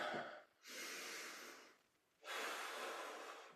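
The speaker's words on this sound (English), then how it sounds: "Full, deep breathing." Two long, deep breaths during a stretching exercise, each a soft airy rush lasting over a second, close and quiet, with a short pause between them.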